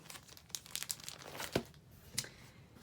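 Canvas paper is crinkled and handled during scrapbooking, producing quiet, close rustles and scattered crisp crackles with a few sharper snaps.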